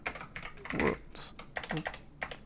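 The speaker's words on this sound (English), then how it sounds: "Hope you're better at typing than I am." Rapid clacking of computer keys in uneven bursts, close and fairly quiet, with short pauses between runs of keystrokes.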